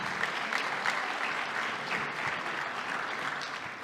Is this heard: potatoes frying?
no